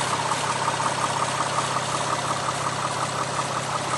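A Mitsubishi Galant VR-4 turbo quad cam engine idling steadily at close range, a smooth, even mechanical hum with no pauses and no voices.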